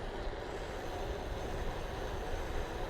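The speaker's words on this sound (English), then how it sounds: "A lot of traffic out today." Steady road traffic rumble heard while riding a Trek Checkpoint ALR 5 bike, a continuous broadband roar of passing vehicles with no distinct individual passes.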